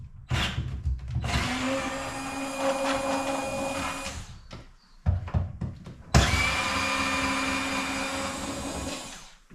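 A wet vac runs loud and close as a steady broadband whoosh with a tonal whine, cutting out briefly midway and then starting up again, used during an Alpha Intec boiler diverter valve replacement.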